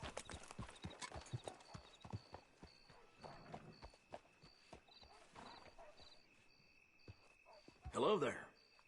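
Horse hooves clip-clopping in Red Dead Redemption 2, a steady close walking rhythm of hoof strikes with a faint musical tone behind and a brief louder snort or whinny near the end.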